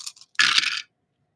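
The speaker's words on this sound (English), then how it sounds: "There's something about the sound of dice on wood." Dice dropped onto a wooden surface set on the ground give a brief burst of clattering rattles that settles quickly into silence, with a couple of faint light clicks just before the main tumble.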